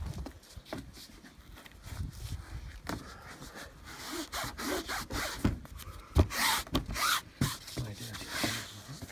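Trimming a new roof lining in an Integrale with a sunroof, a close run of rubbing, scraping and cutting strokes in an uneven rhythm with small knocks and handling noises.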